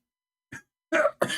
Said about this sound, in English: I cannot cough more.